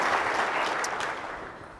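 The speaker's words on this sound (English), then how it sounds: "Let's have another round of applause for him, actually." An audience at a corporate talk applauds, a broad, dense patter of many hands that tapers off toward the end of the short burst.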